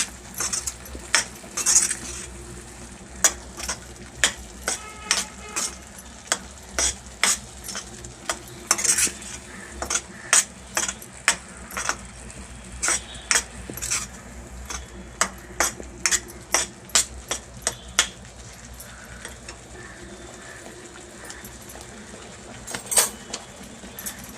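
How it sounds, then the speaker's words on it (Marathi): Paneer butter masala gravy stirred and sautéed in butter, a spoon clinking and scraping against the pan in an irregular rhythm over a soft steady sizzle, close up with no talking. "ग्रेव्ही चांगली परतून घेऊया आपण बटरमध्ये."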